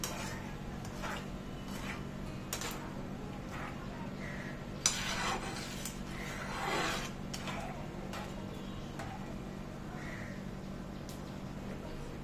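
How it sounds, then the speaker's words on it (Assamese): Dal being stirred in a cooking pot, soft scraping and occasional light clinks of the spoon against the pot over a steady background hum, with a sharper knock partway through. "দি আকৌ গোটেইখিনি ভালদৰে লৰাই দিছোঁ"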